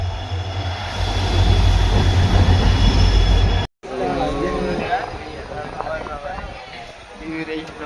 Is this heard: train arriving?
yes